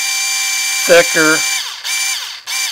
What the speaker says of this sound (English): you can drill holes into thin material or soft material such as sheetrock